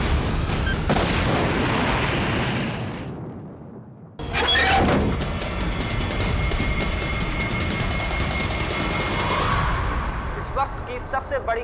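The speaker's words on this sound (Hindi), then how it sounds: "वहाँ एक घर में बॉम्ब विस्फोट हुआ है" A bomb explodes loudly and suddenly in a house after a fading rumble, followed by sustained crackling debris and roaring noise, with a voice audible underneath.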